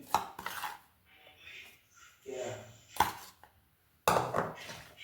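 Rice flour dough for a traditional Assamese bottle gourd pitha is pounded in bursts of thumping and scraping, close and moderately loud, with short quiet gaps between strikes.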